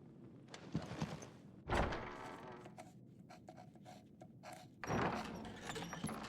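A door in the video game Final Fantasy XVI opens and shuts with wooden thunks and a heavier slam, the distinct knocks separated by quieter stretches.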